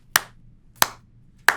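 Three sharp, isolated hand claps land about two-thirds of a second apart in an even rhythm, each crisp and close, with quiet between them and no talking.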